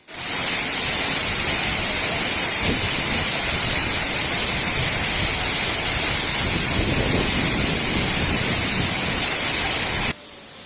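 Kiliyur Falls in Yercaud, Tamil Nadu, pours as a steady, loud, broadband rush of falling water that stays constant for about ten seconds with no voices, then drops away abruptly at the end.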